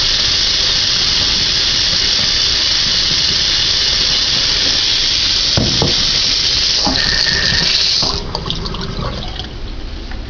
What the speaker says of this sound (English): Just shake all the water off.